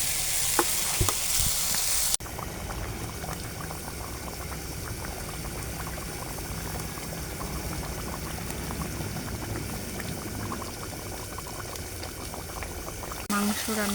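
A pot of chicken curry with potatoes comes to a boil after water is added. A continuous, close bubbling and simmering roll carries on evenly throughout.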